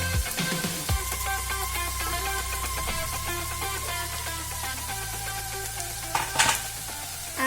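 Cooked rice is tipped into a hot pan of chicken fried rice with Szechuan sauce, where it sizzles and crackles steadily at moderate volume, with a brief scrape or clatter near the end and no talking.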